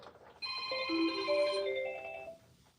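A telephone rings with a sustained electronic tone lasting about two seconds, clear and fairly close, with no talking.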